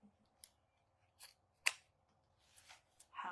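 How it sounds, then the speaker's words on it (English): Scissors snip through ribbon tails while a red, white and blue swag is made, five or six quiet, separate cuts spaced irregularly, close by and alone, with no talking. "I'm going to cut these tails up."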